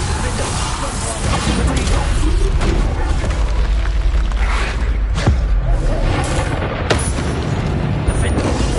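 Loud Bombarda spell explosions and booming blasts in the Hogwarts Legacy combat, heavy and continuous, with a sharp crack partway through, all beneath a voice talking throughout.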